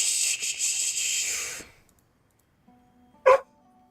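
A puppy gives a single short, sharp bark indoors after a stretch of hissy noise fades into near silence, the bark close and brief over a faint low hum.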